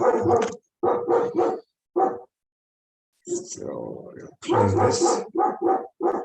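Short dog barks sound in the background of a room, interspersed with and partly buried under a person speaking, louder in the gaps between phrases.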